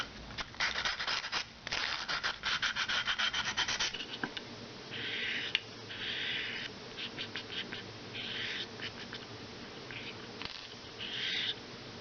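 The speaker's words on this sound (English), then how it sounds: "So I'm going to give it a little bit of sanding with a very fine grit, 400." Rhythmic fine sanding strokes with 400-grit paper rasp back and forth over stained wood dollhouse furniture, fast and dense at first, then slower, separate swipes, close and moderately loud.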